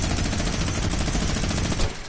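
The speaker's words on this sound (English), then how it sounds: "I'll just shoot into the sky" Sustained rapid gunfire from a video game weapon fired into the sky, a loud, dense, continuous burst of shots with no talking.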